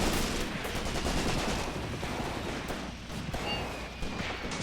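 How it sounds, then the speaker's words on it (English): Soldiers fire steadily in the WW2 video game Graviteam Tactics: Mius Front, with dense overlapping rifle and machine-gun bursts, loud and continuous throughout and no talk. "And as you can see, they're still firing."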